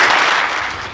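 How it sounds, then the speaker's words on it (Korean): An audience at a book launch event claps in a dense, loud burst of applause that fades slightly over a second. "여러분 큰 박수 보내주시기 바랍니다."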